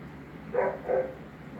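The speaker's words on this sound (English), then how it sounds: "You'll hear dogs in the background." Two or three muffled barks from dogs in another room, quick and faint against a quiet background hum.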